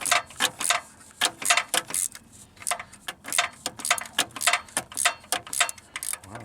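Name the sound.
nut being loosened during Aztek engine teardown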